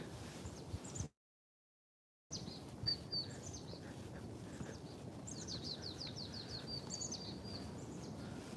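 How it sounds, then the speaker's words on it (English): Birds chirp and sing in an urban park in early spring in Beijing, with repeated short high calls scattered through steady low background rumble of the surroundings, moderately distant. "Listen to the birds sing."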